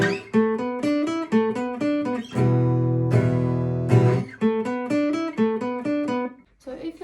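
Electric guitar playing a riff, a chugging pattern of short repeated notes broken by a longer sustained chord in the middle, loud and close with no voice over it.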